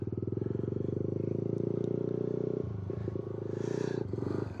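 A Kawasaki Z125 Pro motorcycle engine pulses in a fast, loud, steady throb, then rises and falls unevenly as the throttle changes during a wheelie attempt, with some clatter near the end.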